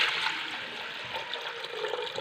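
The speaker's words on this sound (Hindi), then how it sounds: "इसमें हम पानी शामिल करेंगे।" Water rushes and splashes steadily into a pressure cooker holding lentils, a continuous bright pouring sound with no talking.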